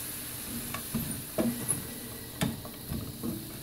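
Celery tossed into a pan of browning sausage for homemade stuffing, giving a soft steady sizzle with faint stirring clinks and scrapes scattered throughout, close and fairly quiet.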